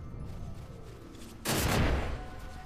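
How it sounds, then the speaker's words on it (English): An explosion trap goes off in the Final Fantasy XII video game, a sudden loud blast bursting in over a steady background of game sound and fading slowly, with no speech. "Another explosion trap."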